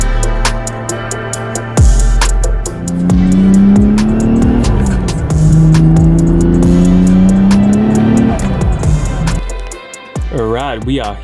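Toyota Chaser with a 450hp 1JZ engine running on ethanol, loud and rumbling with the engine note rising and falling through revs, close by with people talking over it.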